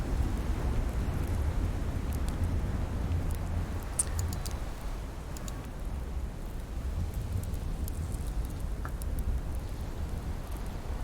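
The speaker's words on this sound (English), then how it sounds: "I really hope this storm clears up." A rainy thunderstorm produces a steady, dense low rumble and wash of rain, with scattered faint ticks and patters on top throughout.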